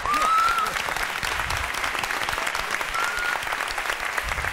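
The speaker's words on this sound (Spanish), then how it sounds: "Un fuerte aplauso para él." An audience claps and cheers in a steady burst of applause for a guest named Miguel, a dense crowd wash that stays loud throughout, with a couple of faint whistles rising above it.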